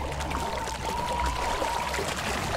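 Water being filled in the survival video game Conan Exiles, a steady pouring, trickling stream that runs continuously and fairly close, with no talk over it.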